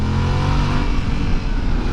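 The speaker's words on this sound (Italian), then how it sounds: "E il motore frulla, che è un piacere" Up close and loud, the CP2 twin-cylinder engine of a Yamaha Ténéré 700 adventure motorcycle revs steadily under acceleration on the road, a continuous throaty drone with no voices.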